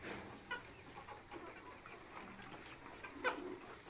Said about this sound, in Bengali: এই মুরগিগুলো আমরা ডিমের জন্য তৈরি করছি।